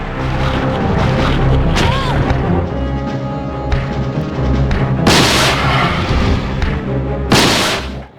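Gunfire aimed at a boss in a Resident Evil game, heavy booming blasts over a dense, loud game soundtrack, with two sharp bright bursts standing out near the end.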